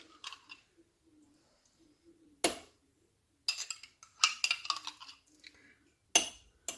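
A tablespoon of jam spooned into a homemade yogurt jar, giving a few sharp spoon-on-glass clinks and scraping taps in short irregular bursts against a quiet background, close and clear.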